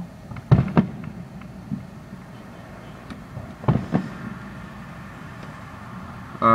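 Fourth of July fireworks explode at a distance in two separated clusters of sharp booms and crackles over a quiet outdoor background.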